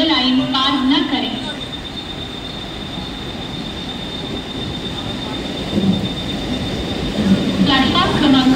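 A fast local train on Mumbai's suburban line rushes past a station platform at night, a loud continuous rumble with squealing wheels and a steady high whine, while a platform announcement plays over it.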